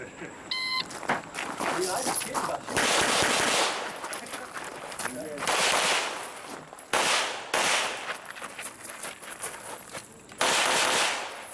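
Pistol shots crack out in rapid strings during an IDPA match stage at an outdoor club range, loud and close, several bursts of quick shots divided by short pauses, with people talking in between.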